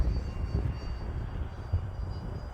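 Freewing MiG-15 64mm EDF RC jet flying in strong wind, its ducted-fan whine faint and distant beneath heavy low wind rumble and buffeting throughout.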